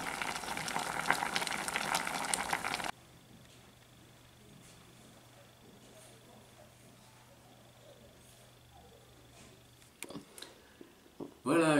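Milk thistle plant parts boiling in a saucepan: loud bubbling and hissing at first, then it drops to a faint simmer with soft clinks before rising noise returns at the end.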